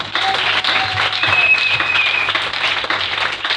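A church congregation applauds and cheers for the Lord, producing sustained, dense clapping from a large crowd, loud and steady, with voices mixed in.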